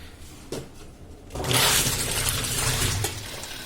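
A Sanyo twin-tub washing machine under repair starts its wash side: after a quiet switch click, water rushes and churns loudly and steadily at close range, with no talking.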